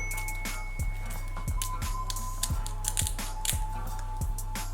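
Scissors snip through wig lace at the sideburns in a series of small, crisp close-up clicks spaced irregularly over a steady low hum, with no talking.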